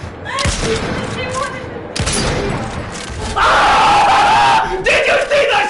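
Gunshots go off in Fortnite with a couple of sharp, loud cracks near the start, followed by a chaotic stretch of yelling voices and blaring game effects that grows louder toward the end.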